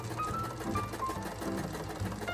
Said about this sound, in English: I went ahead and sewed the darts on the front.